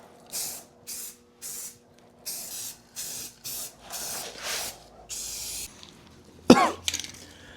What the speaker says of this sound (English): I'm going to put a weatherproof coating on it and probably do about 5 coats